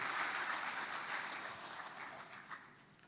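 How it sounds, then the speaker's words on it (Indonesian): Audience applause at a choir's 75th anniversary concert, a dense, steady wash of many hands clapping together, fairly faint and slowly tapering off over a few seconds. "kita bisa memberikan tepuk tangan sekali lagi."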